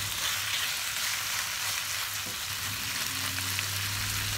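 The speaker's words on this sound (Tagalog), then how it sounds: "hayaan lang po natin na medyo ma-fry ang ating chicken para po lumabas yung oil sa skin ng ating chicken" Chicken fries in oil for a curry, giving a steady, moderately loud sizzle with faint stirring and no voices.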